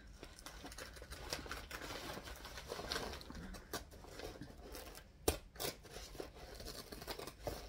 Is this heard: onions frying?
no